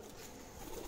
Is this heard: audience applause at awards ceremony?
no